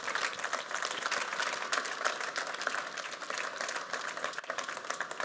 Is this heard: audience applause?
yes